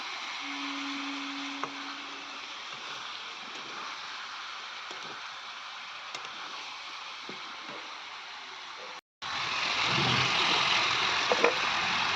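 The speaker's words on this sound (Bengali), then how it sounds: "আমি মাংসটা দিয়ে দিয়েছি, আর খুব ভালোভাবে নাড়ছি" Chicken pieces fry in a pan at a rooftop cooking spot, a steady broad sizzle with faint scraping from stirring, briefly cut off and then returning louder.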